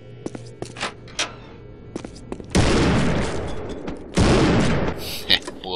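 A sawed-off shotgun fires in Postal 2: two loud, booming blasts, each with a long roaring tail, follow a run of sharp clicks and small clatters.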